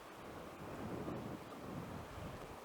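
Storm wind gusts hard and roars steadily during a yellow-alert thunderstorm, a broad faint rushing wash that swells briefly near the middle and carries no voices.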